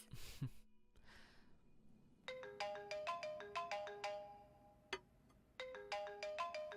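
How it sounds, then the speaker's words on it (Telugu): A mobile phone plays a melodic electronic ringtone, bright repeating chime phrases that start after a short breath and pause briefly before resuming, fairly quiet and close. "ఇంటి నుంచి ఫోన్ వస్తోంది"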